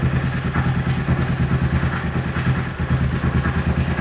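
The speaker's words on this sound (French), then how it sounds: "là, on a entendu le ralenti tomber" An Aprilia Tuono motorcycle engine idling close by with desynchronized throttle bodies, its steady pulsing beat faltering and dipping briefly near the end.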